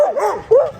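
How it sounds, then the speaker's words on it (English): Sasha the dog lets out two close, loud 'woo-woo' vocal calls, yodelling yips that bend up and down in pitch, with no talk over them. "Sasha started woo-wooing and then started running around barking"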